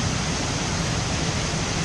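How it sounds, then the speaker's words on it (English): Large waterfall in Gorges State Park, North Carolina, a steady, dense roar of falling water that holds constant and loud throughout, with no voices. "On the other side of all of this, there's a ginormous waterfall."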